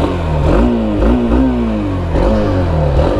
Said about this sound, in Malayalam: പിന്നെ ഞാൻ ഇതിൻ്റെ എക്സോസ്റ്റിന് കപ്പിച്ചതരാം.